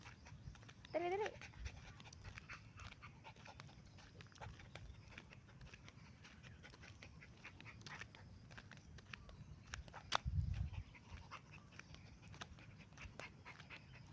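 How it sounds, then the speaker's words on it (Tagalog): A dog pants quickly and rhythmically during an outdoor walk near the street. The sound is faint and close, with a couple of brief voice sounds in the background. "Hinihingal ka na, day."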